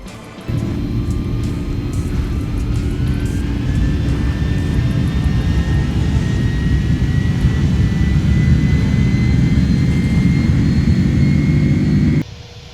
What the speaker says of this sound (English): Flight 261 takes off in the evening from Bangkok Airport at 17:40 local time to Surat Thani.